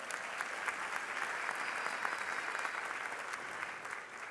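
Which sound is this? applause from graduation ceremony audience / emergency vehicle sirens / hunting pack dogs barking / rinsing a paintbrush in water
applause from graduation ceremony audience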